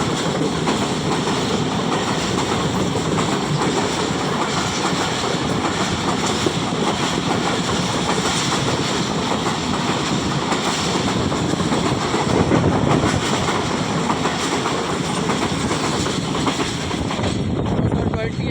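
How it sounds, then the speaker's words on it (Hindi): The 28 Down Shalimar Express, hauled by locomotive 9029, rolls steadily past nearby, a loud continuous rumble and rattle of wagons that holds for the whole stretch. "9029 के साथ चली गई 28 डाउन शालीमार एक्सप्रेस"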